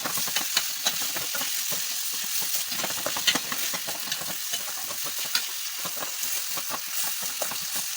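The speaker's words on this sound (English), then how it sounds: "That's because I'm still frying." Vegetable sauce fries in a pan with a dense, steady sizzle and crackle that carries on without a break, broken by faint stirring clicks.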